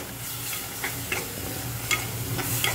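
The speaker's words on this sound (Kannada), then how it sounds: "ಇದನ್ನೆಲ್ಲ ಮಿಕ್ಸ್ ಮಾಡಿಕೊಂಡು ಸ್ವಲ್ಪ ಹೊತ್ತು ಮೀಡಿಯಮ್ ಲೋ ಫ್ಲೇಮಲ್ಲಿ ಇದನ್ನು ಫ್ರೈ ಮಾಡಿಕೊಡಿ" Mutton liver pepper fry sizzling steadily in a pan over medium-low flame, with a continuous close frying hiss, a few soft clinks from stirring, and no talking.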